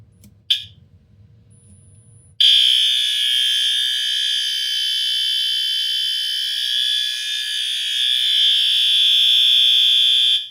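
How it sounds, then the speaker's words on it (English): A fire alarm horn sounds continuously in a test, a loud steady piercing electronic tone holding for about eight seconds after a brief click and low rumble. "I am testing continuous horn"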